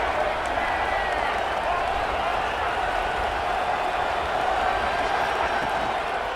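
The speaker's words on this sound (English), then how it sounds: "Crowd getting this defense whipped up on 3rd down." Football stadium crowd roaring steadily to fire up the home defense on third down, a dense continuous wall of loud cheering and noise with no breaks.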